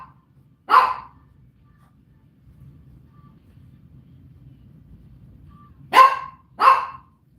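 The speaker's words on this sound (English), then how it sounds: "What are you barking at?" A dog barks indoors, one sharp bark followed after a pause by two more quick barks, loud and close over a faint low background hum.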